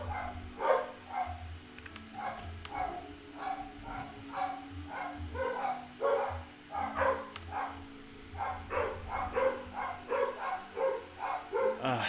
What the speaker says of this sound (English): My dog's barking again.